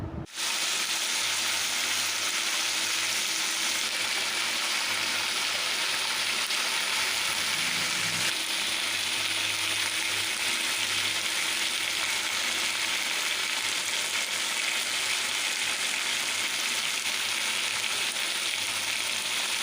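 Potato and pointed gourd curry fries steadily in a pan, a continuous close hiss and sizzle with soft scraping from stirring, loud and alone throughout.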